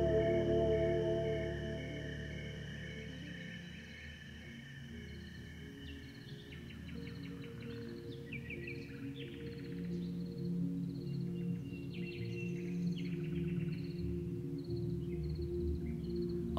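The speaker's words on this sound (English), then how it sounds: "the birds sing all night on her farm in the Loire Valley" Birds sing intermittently at night in the distance on a farm in the Loire Valley, over a steady low hum, with chirps and trills scattered across a calm, still background.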